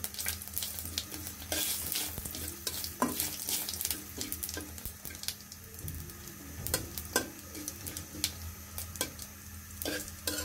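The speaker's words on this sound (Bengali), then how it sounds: "পাঁচফোড়ন দিয়ে ব্রাউন কালার চলে আসার আগ পর্যন্ত আমরা এভাবে নাড়তে থাকবো" Panch phoron spices fry in a pan while being stirred constantly, with a low hiss of oil beneath frequent, sharp spatula scrapes and clacks against the pan, close and uninterrupted by talk.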